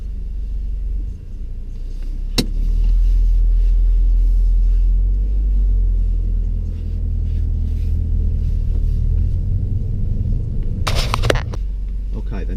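A car pulls away during a driving lesson in Derby, heard from inside the cabin as a steady, loud, low engine rumble with occasional talk over it and a brief sharp click near the end.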